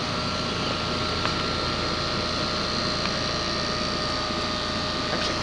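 A 2004 Goodman 10 SEER 3.5-ton heat pump runs outdoors in 90°F heat, giving a steady, loud mechanical drone with a constant fan whoosh and a few faint tonal hums, unbroken throughout with no talking.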